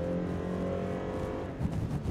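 A Toyota Land Cruiser Prado with a stock naturally aspirated engine pulls away hard from standstill. Its engine drones with a strong, steady tone that rises and roughens as it gathers speed, fairly close by.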